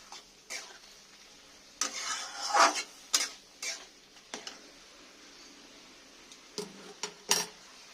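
A utensil stirs potatoes and pointed gourd in a pan, giving quiet scraping and clinking strokes in irregular bursts with faint sizzling between them.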